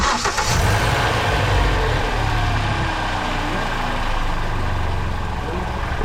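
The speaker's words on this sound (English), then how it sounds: "I'm going to start the car and see what happens" A 2012 Hyundai Elantra with an exhaust problem cranks and turns over, then settles into a steady loud rumble that runs throughout.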